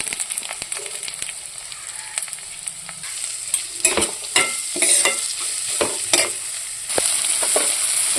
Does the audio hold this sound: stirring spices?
yes